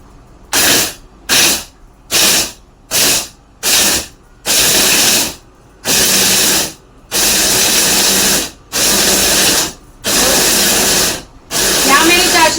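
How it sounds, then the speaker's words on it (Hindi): Mixer grinder grinding spice powder in short on-off pulses, loud whirring bursts that start brief and grow longer, with quiet gaps between each run. "तो अभी मैं इसको ग्राइंड कर लेती हूँ। तो ग्राइंड कर लेते हैं, same system, on off on off."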